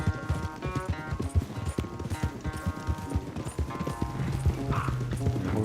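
Rapid, rhythmic hoofbeats of a galloping horse in the video game Red Dead Redemption 2 during a race, close and driving, with occasional snorts and gear rattle and no talking.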